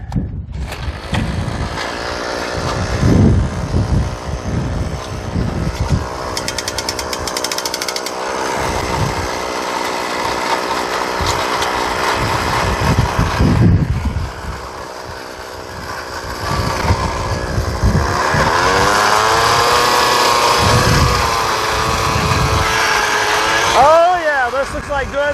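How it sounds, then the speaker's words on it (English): A loud motorized drill bores into the ground while prospecting for placer gold, grinding and rattling continuously, its engine surging and easing, with occasional voices over the noise. "now we can go ahead and start drilling the next hole."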